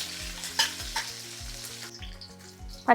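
Onions and curry leaves frying in a pan for home-style chicken mandi, a steady close sizzle with occasional stirring scrapes and a couple of sharp utensil clinks.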